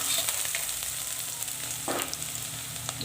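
Onion with garlic-cumin paste frying in oil, a loud, steady close sizzle throughout with a brief stirring scrape midway.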